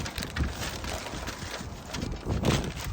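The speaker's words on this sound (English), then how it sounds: "there's too much wind today" Outdoor wind buffeting the microphone during garden seedling planting, a dense rumbling roar with gusts that swell and ease, loud and continuous with no talking.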